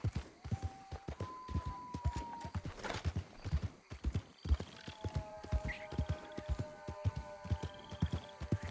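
Horse hooves clip-clop steadily in Red Dead Redemption 2, with a whinny near the start and a soft background tone, the galloping rhythm continuing throughout without talk.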